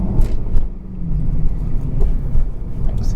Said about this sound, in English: Makes the exhaust note much, much deeper.